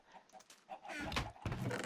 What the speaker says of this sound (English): we can hear chickens. You're too loud.